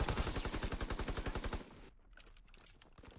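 Rapid automatic gunfire rattles in the Call of Duty WW2 video game. A steady, fast burst of evenly spaced shots lasts about a second and a half, then cuts to quieter scattered sounds.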